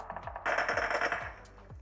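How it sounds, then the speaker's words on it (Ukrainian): Bursts of rapid automatic video game gunfire crackle in quick succession, with short pauses between volleys, sounding close and sharp. "Де хто стріляє?"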